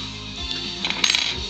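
A bunch of metal keys and locks jingle and clink together as they are handled up close, with a brief rattling burst near the end.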